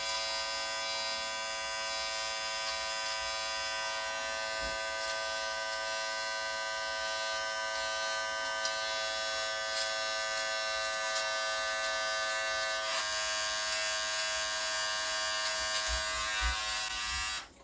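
An electric eyebrow trimmer from a multifunctional beauty kit buzzes steadily and continuously for the whole stretch, a close, thin, even motor whine with only slight changes in tone as it trims.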